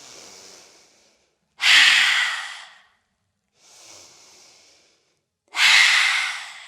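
Deep, open-mouthed exhaling breaths during a yoga session: four breaths alternating a softer airy breath with a louder, fuller mouth exhale, close and clear with no talking.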